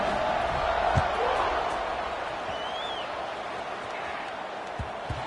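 A football stadium crowd at Northern Illinois hosting Utah State gives off a steady broad roar and murmur just before kickoff, with a commentator talking over it.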